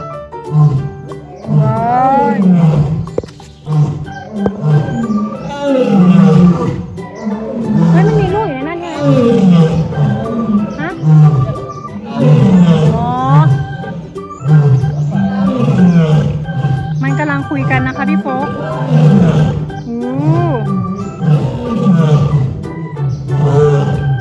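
A lion roaring at the Khon Kaen zoo, with deep repeated roars that run through the whole stretch while children and an adult keep talking excitedly over them.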